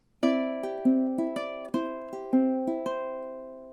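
A ukulele fingerpicks the second measure of a song, its rolling pick pattern giving about eight close, bright plucked notes that ring into each other and then fade.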